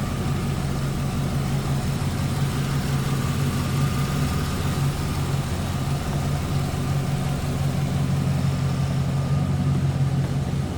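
A 5.7-liter LT1 engine in a 1939 Chevrolet two-door sedan street rod idles steadily and fairly loudly, a low continuous rumble with a constant hum, no voices over it.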